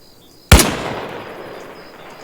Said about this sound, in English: why don't I use my trusty sniper rifle and have a crack at that